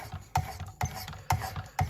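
Four evenly spaced rasping strokes of a knife blade drawn across the stone of a Work Sharp Precision Adjust sharpening system, close and crisp, each with a sharp scrape at its start.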